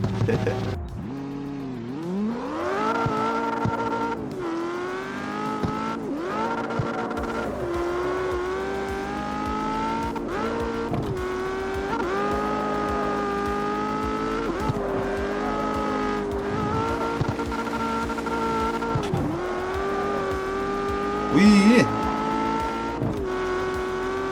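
A race car in the CarX Street game revs hard through repeated gear changes, its engine pitch climbing and dropping steadily over a continuous loud drone, with occasional tyre squeal and a brief burst near the end.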